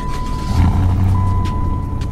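Dodge Challenger V8 muscle car engine starting up, a steady low engine rumble settling in across the whole two seconds with a faint thin tone above it and no talking.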